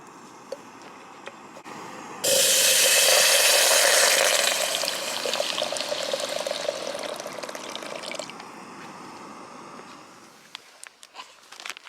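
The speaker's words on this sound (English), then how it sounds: "you just pour water up to the line and leave it for about 8 minutes" Water pours steadily into a dehydrated pasta carbonara meal pouch at a forest wild camp, a loud rushing stream that starts abruptly, runs about six seconds, then thins out and stops.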